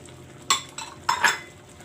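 A utensil stirring lechon paksiw with vinegar and soy sauce in a pan, giving three or four quick metallic scrapes and clinks close by, with faint background hum and no talk.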